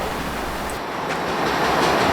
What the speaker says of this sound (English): Train Q452, the nightly Miami to Waycross Manifest train, had a bit of a surprise on there, as you will be hearing right now